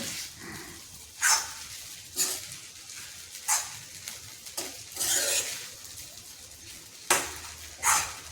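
A spoon stirs ground peanut powder into sabudana khichdi in a pan, giving a series of separate scraping, rustling strokes about a second apart, close and moderately loud, with quieter gaps between them.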